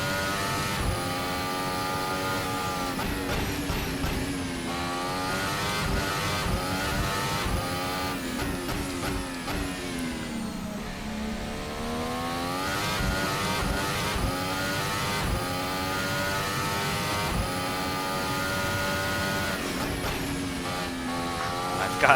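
The RSS Formula Hybrid 2018 Formula One car in Assetto Corsa, its engine screaming steadily at high revs, with a pitch that dips through a corner and climbs again. The engine is loud and continuous, with no talk over it.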